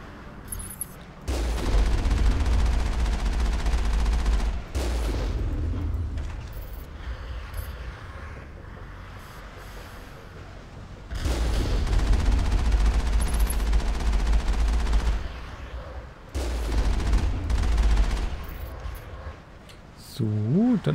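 Gunfire bursts from a Mass Effect firefight, loud repeated volleys with booming low end in several long stretches, separated by brief lulls.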